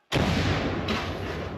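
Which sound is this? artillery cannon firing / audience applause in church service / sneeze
artillery cannon firing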